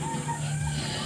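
Chickens cluck softly in a poultry house with about sixty birds, a low steady murmur of fowl calls.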